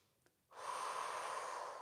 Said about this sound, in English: Breathing deeply in through the nose